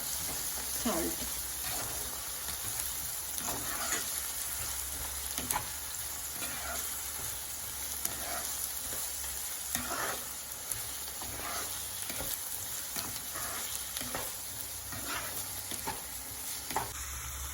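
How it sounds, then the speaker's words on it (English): Ginger garlic paste, green chilies and curry leaves with turmeric and salt frying in a pan, a steady close sizzle with periodic scraping stirs and soft tapping. "Now everything has fried properly"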